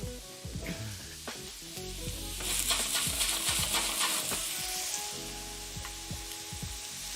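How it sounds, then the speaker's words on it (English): Food sizzles hard in a hot pan on high heat, a bright hiss with clinks and scrapes of stirring, swelling louder midway and then easing back; nobody speaks. "That's sizzling ASMR."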